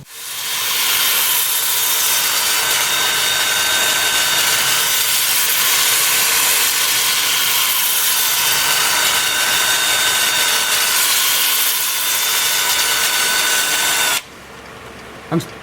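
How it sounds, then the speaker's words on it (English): Steady, loud whirring hiss of a power sander running continuously on turned maple, starting at 80 grit, cutting off near the end. "Starting sanding at 80 grit, working up through 400."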